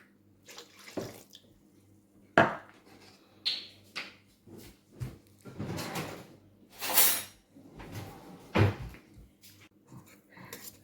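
Baghrir batter of semolina and water being mixed in a bowl by hand, a run of irregular sloshing and scraping bursts, close and moderately loud, with short pauses between strokes and no speech.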